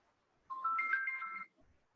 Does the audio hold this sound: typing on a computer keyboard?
no